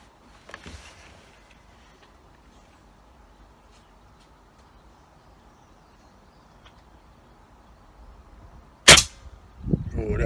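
An air rifle fires a pellet while a scope is being zeroed: one sharp, loud crack near the end of a quiet outdoor stretch, with faint ambient noise and a softer knock early on.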